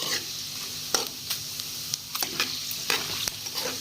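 Crushed coriander and cumin seeds crackle in hot oil for a paneer masala gravy, a steady close sizzle broken by sharp pops and scraping stirs, with no voices.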